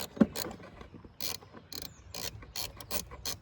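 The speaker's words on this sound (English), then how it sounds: "So I'm just taking off the bolt, just literally pops off, and it's popped off now." A bolt comes off a car battery terminal on a Vauxhall Corsa with a series of quick, close metallic ratcheting clicks in an uneven rhythm, short bursts with little gaps between them.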